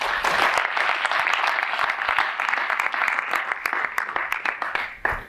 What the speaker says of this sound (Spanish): les recibimos con fuerte aplauso